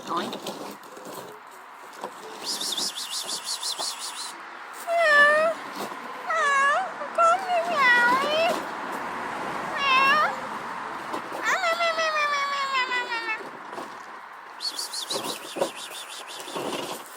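A cat meows repeatedly in short, rising and falling cries, fairly close, while people chatter around it and a few brief chirps sound.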